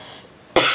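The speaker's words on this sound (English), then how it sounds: "Excuse the coughing a little bit." A single sharp human cough bursts in close to the microphone after a stretch of quiet room hiss.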